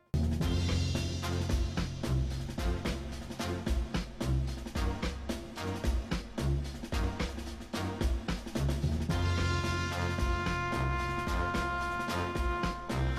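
A slower, slightly off-key in-game version of a Sonic cutscene piece plays loudly and continuously, with dense rhythmic accompaniment and sustained melody tones rising near the end, no voices.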